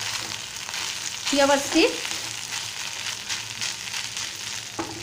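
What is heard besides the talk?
stir-frying cooked rice for jeera rice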